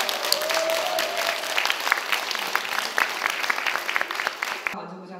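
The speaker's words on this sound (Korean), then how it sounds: "박수 부탁드리겠습니다." A crowd at a civil defense anniversary ceremony in Gyeonggi Province claps steadily for several seconds, a dense patter of applause with a murmur beneath, cutting off abruptly near the end.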